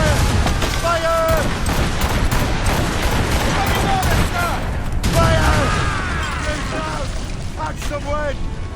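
Ship cannons fire in the video game Assassin's Creed Rogue, a dense barrage of loud booms and rumbling blasts rolling continuously, with voices shouting over the gunfire.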